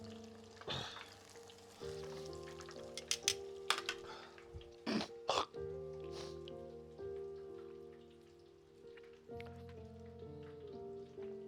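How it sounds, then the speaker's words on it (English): Meat sizzles and crackles in a hot pan, a steady spattering hiss with occasional sharper pops, heard up close over a faint background hum. "while that's frying, it's almost ready"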